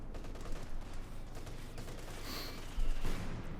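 Light machine gun fire from the Company of Heroes 2 strategy game, a dense crackling fusillade of bursts running steadily with a louder burst near the end, no talk.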